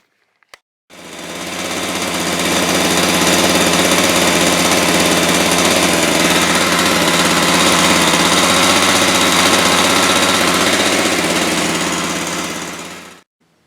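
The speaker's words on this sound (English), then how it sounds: "Well, it runs." An old Jonsered 920 chainsaw with a suspect carburetor starts and runs at steady high revs, a loud, continuous buzzing roar for about twelve seconds before cutting off abruptly.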